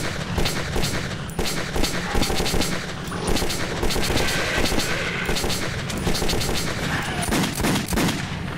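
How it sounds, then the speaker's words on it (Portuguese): Rapid automatic gunfire from a whole magazine being emptied in the Metro 2033 video game, sustained bursts of sharp cracks echoing through tunnels, loud and continuous with no speech. "O bicho tomou um monte de tiro e não caiu, cara. Eu descarreguei o pente inteiro."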